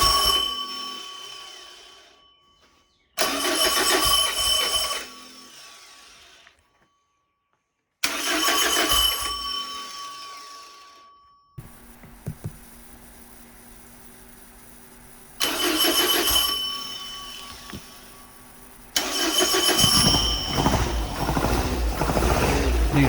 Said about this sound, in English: we were ready to give the engine a start for the first time